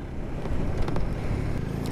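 A BMW R1250R boxer-twin motorcycle engine runs steadily under load at low revs in a high gear, a continuous close rumble mixed with heavy wind buffeting across the microphone while riding, without speech.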